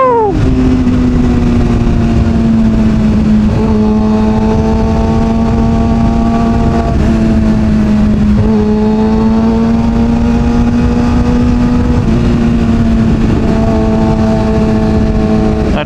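A Kawasaki ZX636R sport motorcycle ridden at steady speed gives a loud, close, continuous engine drone whose pitch rises and dips slightly with small throttle changes, with no talk.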